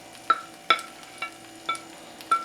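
Eggs, shrimp and onions fry together in a pan for shrimp fried rice, a quiet sizzle punctuated by five sharp, evenly spaced clacks of a utensil against the pan as it is stirred.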